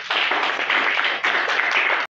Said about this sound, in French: Applaudissez au moins pour elle.